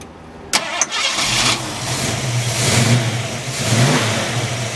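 A 1968 Ford Mustang engine with headers cranks and fires up, a couple of sharp starter catches followed by a rumbling idle and two rising revs, loud and close.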